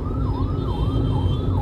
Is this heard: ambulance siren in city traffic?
yes